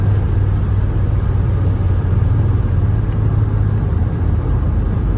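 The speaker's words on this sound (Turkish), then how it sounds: "170 oldu virajdan dolayı frenliyoruz" Inside a Ford Tourneo Courier running at around 170 km/h, a loud, steady engine and road rumble fills the cabin without letting up.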